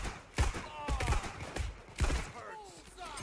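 Sniper gunfire in the heist shooter Payday 2, heard as several sharp, booming shots at irregular intervals, mixed with in-game clatter and people talking over it.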